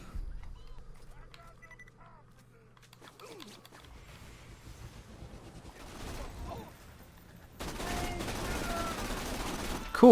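Pearlescent Sawbar rifle fire in Borderlands 2, with rapid automatic bursts building up in intensity toward the end amid game noise, with a voice talking over parts of it.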